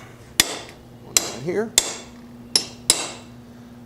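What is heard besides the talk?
hammering a center punch into metal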